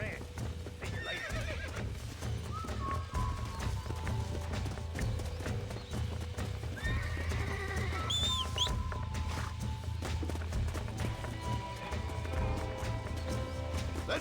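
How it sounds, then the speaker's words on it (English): A horse in the Western video game Red Dead Redemption gallops with rapid, steady clip-clopping hoofbeats and lets out a whinny, all over continuous outdoor game ambience. "I'll take this one back to the ranch"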